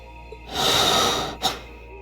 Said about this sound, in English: Oh my god, that heavy breathing.